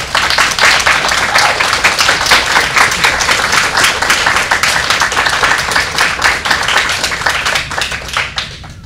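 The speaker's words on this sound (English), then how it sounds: "Another round of applause for Simpson." An audience at a teach-in conference applauds steadily for several seconds, dense clapping from many hands that fades slightly at the end.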